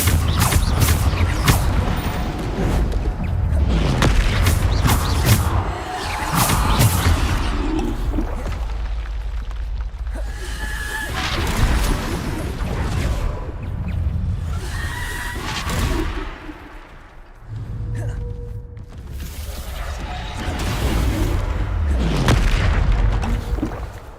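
Bombarda blast spells booming repeatedly during combat in Hogwarts Legacy, loud heavy explosions mixed with creaking, whooshing effects and a horse-like whinny from a creature, continuous and dense throughout.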